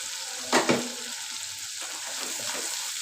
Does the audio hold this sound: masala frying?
yes